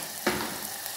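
Masala with salt, turmeric, garam masala and chopped coriander sizzles steadily in a hot pan. A sharp burst of stirring comes early, then a continuous close frying hiss.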